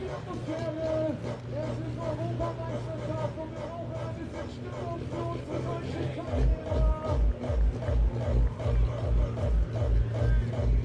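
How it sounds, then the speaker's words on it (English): A German crowd at a tractor pulling event in Edewecht gets lively, a dense babble of voices and cheering layered over music with a pounding rhythmic beat in the second half. "So we can hear the local German crowd now start to get revved up"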